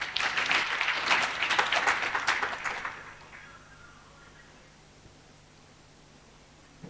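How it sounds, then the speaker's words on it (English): An event audience gives a warm round of applause to welcome a speaker, clapping loud and dense for about three seconds before fading quickly into quiet room noise. "Please, let's welcome Batia with a round of applause."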